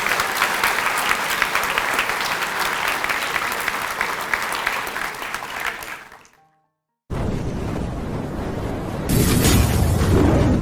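A large crowd at a school Grade 8 blazer ceremony claps steadily in a hall, a dense rolling applause that cuts out briefly and then resumes, swelling louder toward the end.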